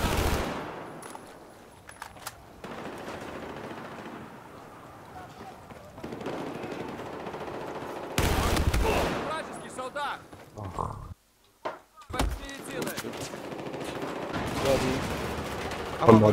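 Video game gunfire crackles in scattered bursts and rapid volleys, mixed with game effects and players chatting throughout, loudness rising and falling with a brief near-silent gap.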